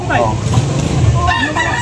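A gamecock crows loudly and close at a bustling rooster market, its rising and falling calls overlapping other fowl in a busy outdoor din.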